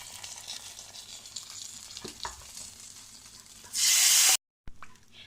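Quiet kitchen clatter, then a loud burst of sizzling as hot oil with dried coriander, Kashmiri chilli and green chilli hits kadhi pakora curry, cut off abruptly.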